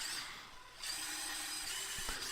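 A power drill bores holes for flathead screws in a garden supply basket, a steady close high whine that dips briefly, then runs on evenly.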